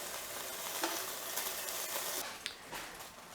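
Seared scallops sizzle steadily in a hot frying pan, a constant crackling hiss with a few louder pops and scraping clicks as pieces are moved, no voices.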